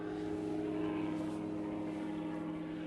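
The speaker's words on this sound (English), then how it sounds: "there's an helicopter bringing me lunch" A helicopter flies over a lake where someone is bream fishing, giving a steady, moderately distant droning rotor and engine hum that holds constant throughout with no talk.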